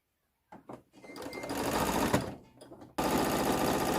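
A domestic sewing machine stitches stretched elastic onto the edge of a gathered skirt, starting after a short silence with a few stuttering stitches, then a steady whirring run and a louder, faster burst at the end.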